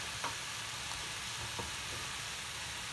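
Vegetables stir-fry with zucchini newly added, giving a steady, even sizzle with a few faint taps of a utensil, moderately close and uninterrupted by voices.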